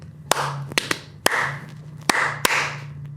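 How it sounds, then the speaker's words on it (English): Hands clap sharply, close and loud, about six distinct claps at irregular intervals as a sync clap for a camera recording, with a low background hum between them. "How's that for a sync clap for you?"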